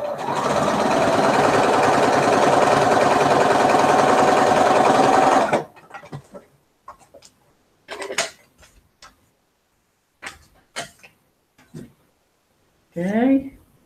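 A sewing machine stitching a Dear Jane quilt block: a continuous, close, rhythmic mechanical whir for several seconds, then it stops, leaving scattered handling clicks and brief soft speech.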